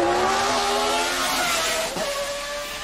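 A BMW E36 with an S54 engine swap revs hard toward 9,000 RPM, its rising tone climbing steadily and dipping briefly near the end, loud and close with no voices.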